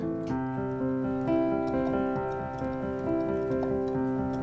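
White-key piano improvisation pattern, repeated rhythmic note attacks over ringing sustained harmonies, clear and close with no voices.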